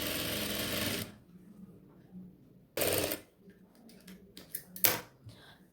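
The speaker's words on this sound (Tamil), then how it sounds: "இந்த மாதிரி 2 கிளாத்தையும் ஒட்டுக்கா வச்சு ஒரு ஸ்டிச் பண்ணிக்கலாம்" A sewing machine stitches two layers of old nighty cloth together for a kitchen apron, running in loud bursts: one long run, a second shorter run, then a few brief stutters and a final quick burst, with quiet gaps between.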